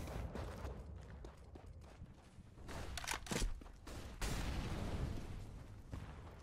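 Rifle fire in a Counter-Strike style esports match, sharp shots cracking out amid a busy game mix, with a few bursts standing out near the middle and others blending into background noise.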